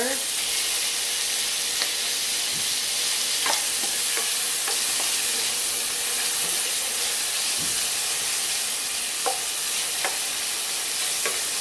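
Garlic sautéing in a pan for a Filipino bottle gourd (upo) dish, a steady sizzle and hiss with occasional stirring scrapes and clinks throughout.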